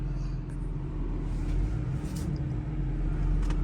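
A 2004 Mercedes fitted with Neomax coilovers driving on the road, giving a steady low engine and road rumble with faint tyre hiss and no talk.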